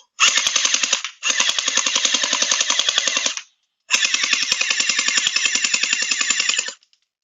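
A VDD Toys M16 gel ball blaster with a drum magazine fires three long full-auto bursts, a rapid even rattle of shots with short pauses between bursts, loud and close.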